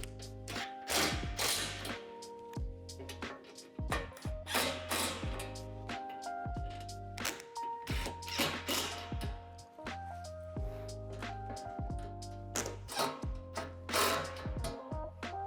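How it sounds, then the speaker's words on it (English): Shed hardware on a Lifetime 10' x 8' outdoor storage shed being tightened with a Phillips screwdriver and vice grips: repeated close taps, clicks and metallic knocks in irregular bursts over a steady low hum, with no speech. "To make tightening this hardware easier, I like to use a Phillips head and a pair of vice grips."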